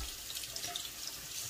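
Warm water runs from a bathroom tap for a morning face wash, a soft steady stream of splashing and trickling, faint and close, with no talk.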